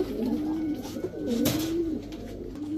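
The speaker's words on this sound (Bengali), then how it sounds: "27 কিলো ব্যাক করা কাজ করা কবুতর।" A pair of racing pigeons, a male and a female, coo nearby in low, rolling calls that repeat steadily, with a brief rustle or flap of wings partway through.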